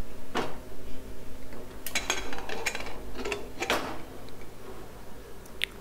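A pressure cooker lid is opened after the pressure has been let out, while sambar is being made, giving a few sharp metallic clicks and clanks spread over several seconds with nobody speaking.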